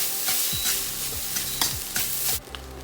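Egg fried rice with scrambled eggs and green peas is stir-fried in a hot pan. A steady loud sizzle runs under repeated scraping strokes of the spatula, each a few tenths of a second apart, and the hiss eases slightly near the end.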